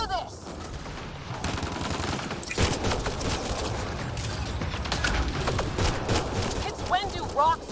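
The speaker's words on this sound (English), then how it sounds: "Just keep firing, we can do this!" Gunfire from a firefight in Mass Effect Andromeda rattles in steady, dense volleys, with crashes and mechanical clatter mixed in. Voices shout over the battle noise.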